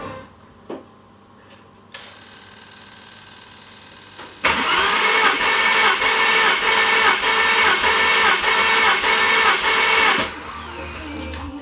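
An Audi S4 engine, fitted in a twin-turbo Boxster 987, is cranked by the starter for a compression test. After a faint click, the cranking whirs on in a rapid, even pulsing rhythm for about six seconds before stopping abruptly.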